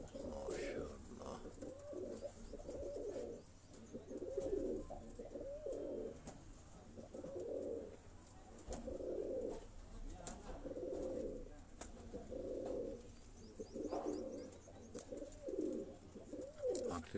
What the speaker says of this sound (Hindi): ये दोस्तों कसूरी ब्लड लाइन में ये कबूतर जो है डॉक्टर साहब आपको दिखा रहे हैं।